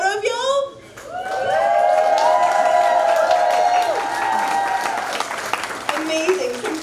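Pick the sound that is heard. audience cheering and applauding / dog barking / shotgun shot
audience cheering and applauding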